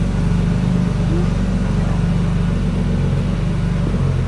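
A BMW E36 engine with a changed cam idles steadily and up close, a low, continuous rumble with a slightly uneven pulse that holds for the whole stretch with no voices over it.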